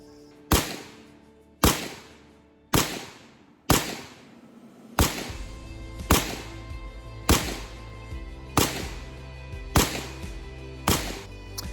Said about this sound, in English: I'm going to show you footage of an example of rapid fire